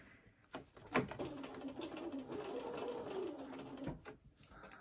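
A sewing machine stitching scrappy quilt blocks of Tilda fabric runs in one steady, fairly quiet burst of about three seconds, framed by faint clicks before and after.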